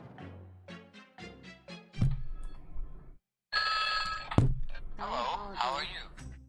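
A telephone rings in WarioWare: Smooth Moves, its bright repeated ring tones standing out sharply amid game music and thumping effects, with someone talking over it.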